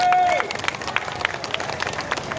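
A crowd at a football tournament final prize ceremony on a gymkhana ground applauds, a dense, loud wash of many hands clapping close by that continues steadily, with a brief voice at the very start.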